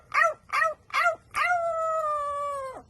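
A parrot imitates a dog: three short, yipping barks, then one long, steady, sustained howl, clear and close.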